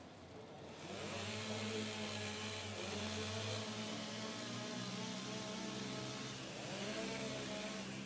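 Several STIHL chainsaws snarl as they warm up at a timbersports rookie competition, starting after a brief lull and then holding a loud, sustained, slightly wavering engine whine with occasional revs, close and without talk.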